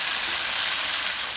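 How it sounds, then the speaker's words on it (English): Chicken breasts fry in a pan with a loud, continuous hissing sizzle that stays steady and close for the whole moment. "I hope you can hear me over the sizzling."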